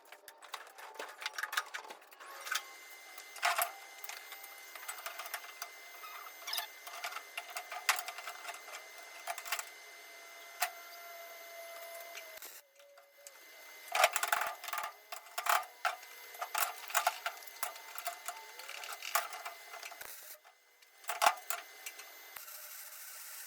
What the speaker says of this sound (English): So we're gonna get those welded up here real quick.